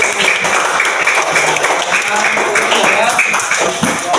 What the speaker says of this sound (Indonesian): Oke, beri aplaus untuk kelompok C